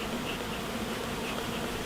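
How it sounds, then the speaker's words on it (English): Honey bees buzzing at an open beehive during a varroa alcohol wash, a dense, steady hum of many wings close by, continuous with no breaks or voices. "let's get some bees in our samples then."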